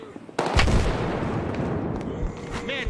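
A sudden loud blast followed by sustained rapid gunfire and rumbling explosions during a competitive shooter video game match, with a voice briefly heard under the combat noise.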